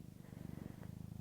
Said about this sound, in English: If you hear a lovely cat purring